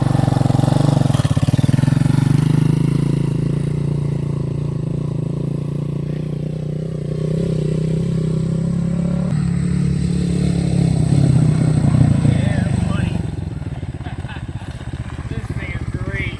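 Motorcycle engine running and pulling away, a steady mid-pitched drone that revs and shifts as it rides off and fades, with people talking over it.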